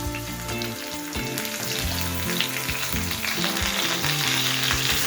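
Eggplant and tomato dropping into oil with already fried potatoes, a loud continuous sizzle and crackle up close with stirring scrapes and a low rumbling hum beneath, no talking.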